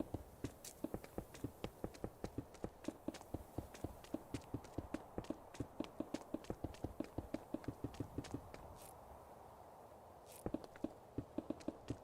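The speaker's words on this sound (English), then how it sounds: "okay, those are my footsteps in game." Steady in-game footsteps tap out a quick, even rhythm for about eight seconds, pause briefly, then resume; crisp and close, with no talking over them.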